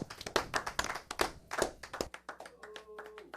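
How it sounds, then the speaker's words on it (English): A close, brisk run of hand claps with an irregular, lively rhythm, followed by a quieter tail with a faint sustained tone. "Clap it up, man."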